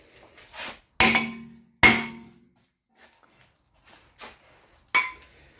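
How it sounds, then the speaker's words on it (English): A hammer strikes a worn brake rotor on an Audi B8, two sharp metallic ringing blows close together, then quieter taps and a final clang after a pause. "Now you grab a hammer."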